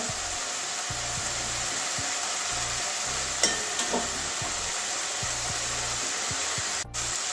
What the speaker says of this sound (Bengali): হালকা হালকা করে নাড়াচ্ছি।